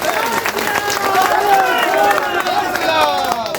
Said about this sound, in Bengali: জোরদার হাততালি একটা হওয়ার জন্য